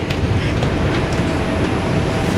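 A New York City J subway train rumbles loudly and steadily, a close, continuous roar of wheels on track without a break.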